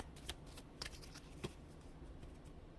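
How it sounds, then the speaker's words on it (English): Soft, quiet riffling of tarot cards being shuffled, with a few sharp snaps standing out against a faint background. "Give a shuffle real quick."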